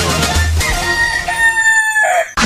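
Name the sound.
rooster crowing jingle on a radio program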